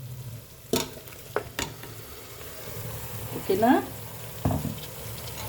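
Mutton curry masala with tomato, coriander powder and salt frying in oil in a pot, giving a low steady sizzle with a few sharp clinks of a stirring spoon and a brief burst of spattering; a voice speaks briefly over it.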